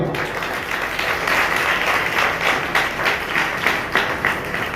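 A church congregation claps together for the Lord during a fasting prayer service, steady, dense applause from many hands filling the room for the whole stretch, with no voices over it.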